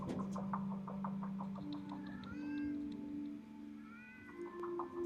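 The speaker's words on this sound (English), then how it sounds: "Oh, it's a cat. I thought it was a baby crying." A cat meows several times outdoors, drawn-out wavering cries that rise and fall like a baby crying, moderately near over a low steady hum, with no talk.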